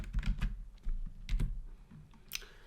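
Python code being typed on a computer keyboard: close, quick bursts of key clicks in an uneven rhythm, with short pauses between runs and a heavier clack near the end, no voices.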